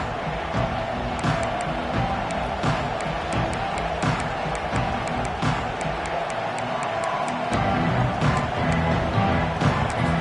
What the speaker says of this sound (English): Challenge this crowd to bring the energy, and I'd say they're doing that.